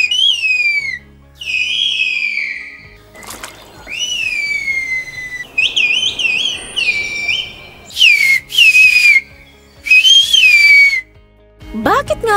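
Villagers in Kuşköy, a Black Sea village in Giresun Province, Turkey, exchange whistled language, loud piercing whistles in sliding, warbling phrases separated by pauses, with rustling and low background noise between them.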